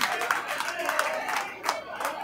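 A crowd at a DJ event applauds and cheers briefly, clapping mixed with voices, fairly close and lively throughout.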